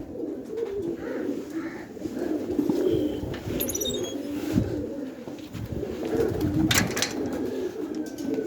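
Pigeons, kept birds with others in the flock, coo in soft repeated throaty calls at close range, with a few rustles and wing movements in between and no talk.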